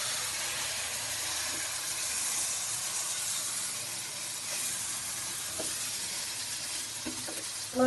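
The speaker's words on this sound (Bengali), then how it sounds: "চালের সাথে মাথাগুলো খুব ভালো করে ভাজা হয়ে গেছে।" Washed polao rice fries with fish heads in a pan, making a loud, continuous sizzle and hiss close by, broken by occasional light scrapes of stirring.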